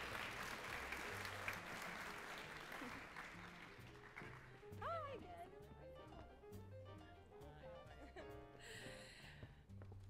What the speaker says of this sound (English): So a round of applause for both of them.